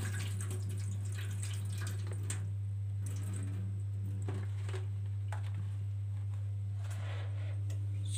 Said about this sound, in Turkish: Şöyle bir yıkayıp tekrar suyunu süzeceğim.